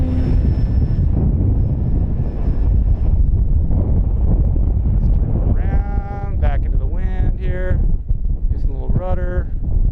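Loud wind buffets the microphone with a constant low roar, while the buzzing, rising whine of a 3000mm FMS Fox RC glider passes intermittently over it.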